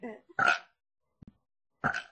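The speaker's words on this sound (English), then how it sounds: "Weak burp middle." Short human burps, two fairly loud ones a second or so apart, with a faint small sound between them, close up in a quiet room.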